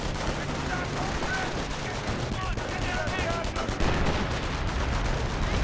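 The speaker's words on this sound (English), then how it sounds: "More artillery rounds hitting the bunker from the Offen Power Ship." Artillery rounds from an off-map power strike pounding a bunker in Company of Heroes, a rapid burst of sharp blasts and crackling impacts stacked densely, loud and continuous.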